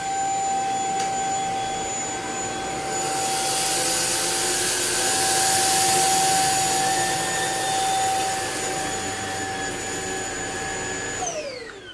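A Shark Apex Uplight vacuum cleaner runs over rice on the floor. Its loud, constant motor whine is topped with rattling and rubbing as grains are sucked up, and it swells mid-pass before the motor winds down at the end.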